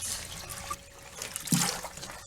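Water poured from a bucket into a pool pump splashes and trickles close by, with a brief gush about halfway through and a quieter dribble around it.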